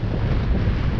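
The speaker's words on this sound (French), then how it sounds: "on marche à 3 nœuds 6, sans dérive, donc dans le bon sens, on progresse, et on le voit par rapport à des amers sur la côte. Au moteur à 2000 tours." Sailboat motoring under engine at 2000 rpm on the Atlantic, a steady low rumble mixed with rushing water and wind buffeting the microphone, loud and continuous.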